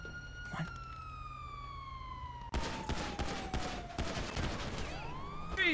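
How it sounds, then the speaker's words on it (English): Several groups trade gunfire in the video game GTA RP at the Pink Cage Motel: a rising siren gives way to dense, rapid bursts of shots that clatter loud and close, then continue in ragged volleys. "I got several groups shooting at one another."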